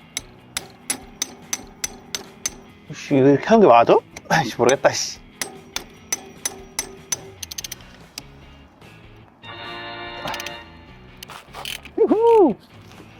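Sharp, regular hammer blows ring out on a Honda Hunter Cub brake caliper bolt, about a dozen evenly spaced metallic strikes, then a few more after a pause, with someone talking in between and a short mechanical whir.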